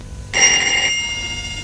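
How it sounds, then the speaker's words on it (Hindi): A telephone rings once in a short, bright electronic burst, close and clear, then fades into a quiet indoor room with no one speaking. "दानी प्लीज जाके फोन सुनो"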